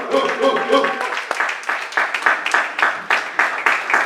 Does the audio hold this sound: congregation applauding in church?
yes